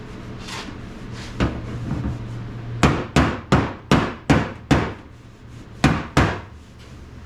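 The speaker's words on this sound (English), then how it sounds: "using my hammer and my dolly and trying to ting these things out" Sharp metallic hammer-on-dolly strikes ring out while dents are worked from a first-generation Toyota 4Runner body panel, a few softer taps followed by a steady run of about nine loud, evenly spaced blows, close by with no talk.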